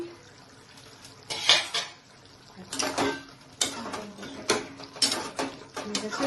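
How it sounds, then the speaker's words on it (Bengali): A metal lid lifted from a pot of mutton kosha with coriander, a run of clanks and scrapes of metal on metal in short bursts, close and fairly loud. "ঢাকনাটা তুলে নিচ্ছি"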